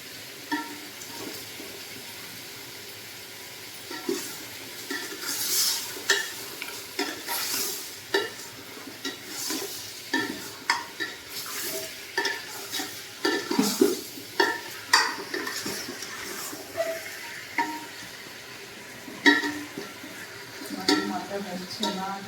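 Mutton cooked with rock salt in a village-style pot, stirred with repeated scraping and clinking strokes over a faint sizzle, while a person talks intermittently.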